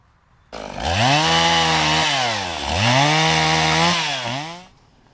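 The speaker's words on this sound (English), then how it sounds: "running a chainsaw without any protective equipment" A chainsaw starts abruptly and runs loud and close for several seconds, its engine revving up and down twice before cutting off; it is being run without any protective equipment.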